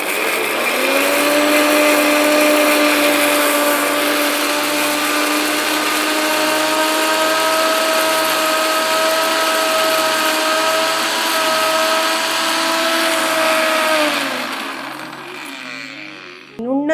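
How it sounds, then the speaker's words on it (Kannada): A kitchen mixer grinder whirs loudly as it blends chopped amla gooseberries into juice, a steady high motor whine holding for about fourteen seconds before winding down and stopping, with no talking. "ಆ ಆಮ್ಲವನ್ನು ನಾವು ಮಿಕ್ಸಿಗೆ ಹಾಕ್ಕೊಂಡು ಅದರಿಂದ ರಸವನ್ನು ತೆಗೆದುಕೊಳ್ಳೋಣ."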